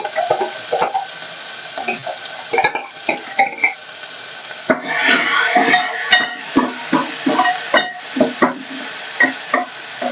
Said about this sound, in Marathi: आता मसा मसाला पण व्यवस्थित तेलावर छान भाजून घेऊया